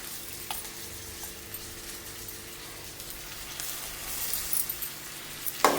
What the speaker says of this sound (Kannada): ಟೊಮೆಟೊ ಹಾಕ್ಕೊಂಡು ಸ್ವಲ್ಪ ಫ್ರೈ ಒಂದು ಸ್ವಲ್ಪ ಸಣ್ಣ ಉರಿ ಮಾಡ್ಕೊಬೇಕು